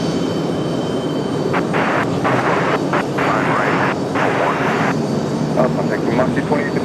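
A Boeing 777 jet airliner bound for London at Raleigh-Durham International Airport, a loud, continuous engine roar sustained throughout, with a voice talking over it.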